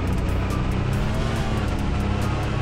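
A Toyota Supra drives in the Car For Sale Simulator 2023 video game, its engine a loud, continuous, steady roar with no talking over it.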